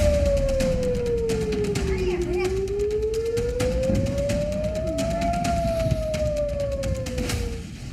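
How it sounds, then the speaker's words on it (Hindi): Air-raid sirens sound across Israeli cities during an Iranian missile attack, a wailing tone that slowly falls and rises over a dense, noisy background, loud and continuous, with a voice speaking over it. "इजराइल के तमाम शहरों में पूरी रात इजराइल के सायरन बजते रहे"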